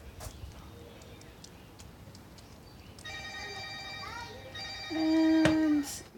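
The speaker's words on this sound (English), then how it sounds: "And my phone." A telephone rings loudly with repeated electronic ringtone bursts, breaking in during an acrylic flip-and-drag painting session over a steady background hum.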